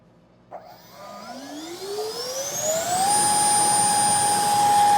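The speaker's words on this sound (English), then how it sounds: "just listen to the difference in motor RPM." The electric motor of a model Avro Arrow jet spins up on a test stand, its whine rising steadily in pitch for a few seconds before holding a loud, steady high-RPM tone.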